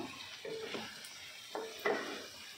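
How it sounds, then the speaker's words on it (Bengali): Fried potatoes are dropped and stirred into a masala in a pan for chicken curry, giving a few soft clinks and scrapes over a low steady sizzle, faint and without talk. "এই সময় আমরা আলু, ভেজে রাখা আলুগুলো অ্যাড করছি।"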